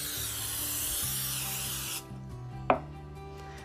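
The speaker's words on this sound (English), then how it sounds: "we're gonna spray our pans" A steady hissing of cooking spray onto baking pans runs for a couple of seconds, then stops, followed by a quiet sharp clack.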